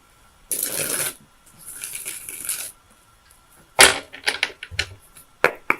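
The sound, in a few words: shuffling tarot cards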